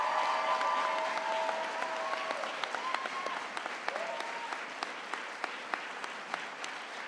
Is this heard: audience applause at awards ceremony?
yes